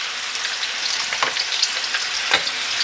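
Lamb chops fry over low heat in a full-aluminum, non-stick-free pan, giving a steady close crackling sizzle with a few sharper pops and soft scraping touches.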